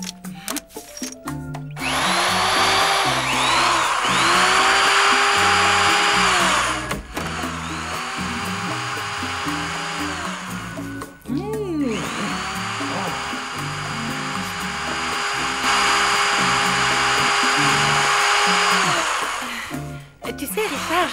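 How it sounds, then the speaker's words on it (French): A cartoon power drill whirs loudly in long sustained bursts, revving up and winding down several times, under background music with brief pauses between runs. "Perceuse."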